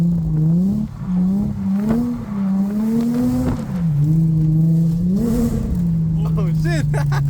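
A Mustang drift car slides on a wet, rainy track while its engine holds a loud, steady drone that dips and climbs as the throttle changes, with voices talking over it.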